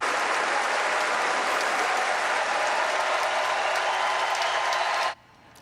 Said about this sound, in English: There was a standing ovation at Wimbledon this weekend, but this round of applause wasn't for the players.